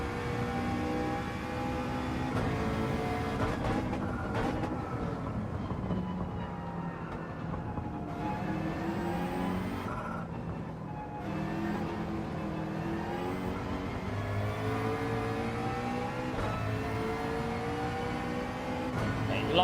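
A McLaren race car in Gran Turismo 7 holds a continuous engine whine that climbs and falls through shifts across a lap, with someone talking quietly over the drone.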